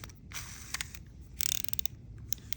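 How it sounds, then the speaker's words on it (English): Drag clicker of a SEASIR M1 fishing reel with the drag tightened down, giving quick bursts of sharp mechanical ratcheting clicks in a few separate runs, fairly close and alone. "That drag clicker's loud."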